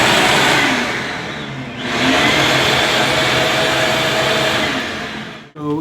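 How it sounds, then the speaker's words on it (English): A vacuum pulling smoke through a house sewer line roars loudly and continuously, a broad airy whine that dips briefly, surges back, and cuts out sharply near the end; no one speaks. "we're going to take a vacuum now and hopefully extract and pull some of that smoke towards us."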